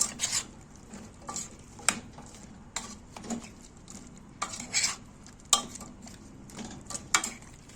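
Taro and meat with green herbs stirred in a pot, the spoon scraping and clinking against the sides in irregular strokes over a faint sizzle, fairly close and alone without talk.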